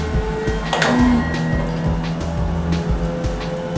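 Race car in a sim racing video game during a virtual motorsport scholarship race, a steady loud engine drone with repeated rhythmic pulses and a brief tire-squeal tone, no talk.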